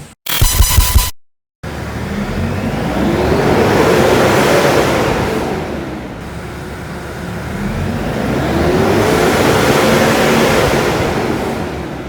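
A Kia Bongo 3 diesel truck, brought in for heavy black exhaust smoke and stalling, runs loud and close. The engine note swells and eases in slow waves, with a short sharp burst at the start and no voices.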